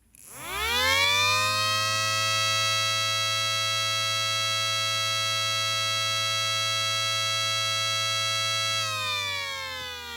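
A 3D printed siren model winds up quickly into a loud, steady, multi-toned wail, holds it for several seconds, then starts to wind down at the end, close and alone.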